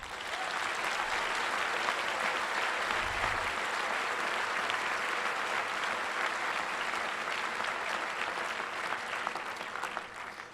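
Sustained, dense applause from a commencement audience thanking faculty members, an even roar of many hands clapping that holds steady for about ten seconds before easing slightly.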